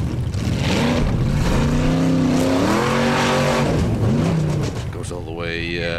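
Loud and close, the engine of a Formula Offroad car strains and revs as it climbs a hill at an Icelandic off-road race, its pitch rising and falling under a commentator's voice before the sound drops away.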